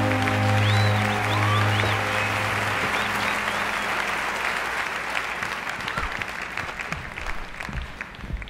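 Applause from a talent show audience, a steady clatter of many hands that begins under a lingering musical chord with a few sung notes, then continues alone and thins slightly toward the end.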